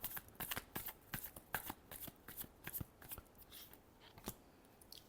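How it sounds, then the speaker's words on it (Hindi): Tarot cards shuffled by hand in a quiet room, a quick run of soft riffling flaps and slaps close up, with no talking. "Last shuffle."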